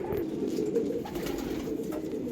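Pigeons released in the morning and still flying: soft, continuous cooing close by over a steady outdoor background, no voices.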